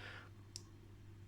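Single sharp click from an Orient dive watch's rotating bezel, stiff and clicky to turn, heard once up close in a quiet room with a low steady hum beneath.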